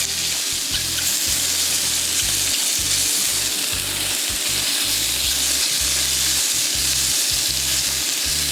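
Food sizzling and frying in a very hot pan for a homemade Caesar salad with chicken, a steady loud crackling hiss throughout with occasional stirring, no talking.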